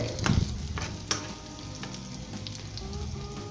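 Onion and ginger fry in a pan as the base for a carrot salan curry: a steady close sizzle, with a few sharp clinks and scrapes of stirring early on and no voices.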